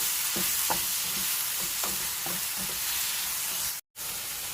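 Korean spicy noodle sauce stirred in a pan, a steady close sizzle with repeated soft scraping strokes, then a brief cut to silence near the end.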